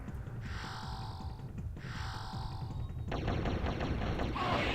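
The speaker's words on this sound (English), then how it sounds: "Pulse rifle, the one I'm using right now, probably has to be one of my third favorite gun in the game" Pulse rifle firing in the N64 game Turok: Dinosaur Hunter, with two sustained bursts of bright electronic energy-weapon tones and then a denser rapid stream of shots, all loud over steady game background noise.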